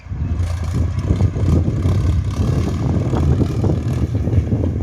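A Ford 6600 single-axle tractor ploughs deep into hard soil, its diesel engine giving a steady, loud, close-up mechanical drone with a little wind noise and no pauses.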